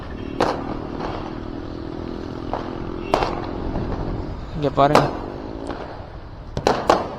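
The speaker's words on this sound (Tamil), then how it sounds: "ஓ மை காட், வெடிக்குதுங்க சங்கு சக்கரம்" A ground chakkar spinning and bursting during Diwali: sharp crackling pops and hissing bursts in scattered clusters over a steady background rumble, with people talking nearby.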